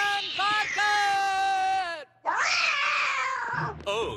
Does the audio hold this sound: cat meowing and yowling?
yes